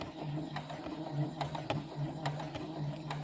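Domestic sewing machine stitching slowly in the ditch along a seam through fabric layers, a steady low mechanical hum with soft rhythmic needle ticks, close and alone without talk.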